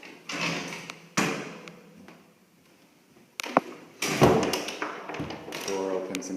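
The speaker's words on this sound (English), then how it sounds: "Door opens and closes properly." A house door is handled during an inspection, opened and shut with a couple of solid thuds and clicks of the latch at close range in a quiet room, with some rustling and handling noise between the knocks.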